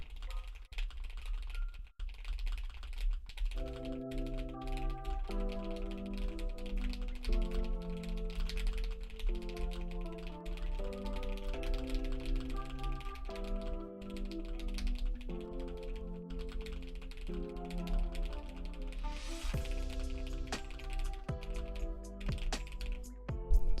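Rapid clicking keystrokes on a computer keyboard run steadily throughout, close and fairly quiet, under a sustained background of layered musical tones.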